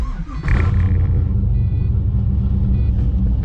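A Pontiac GTO's engine catching and settling into a loud, deep, steady idle rumble close by, preceded by a brief cranking whir.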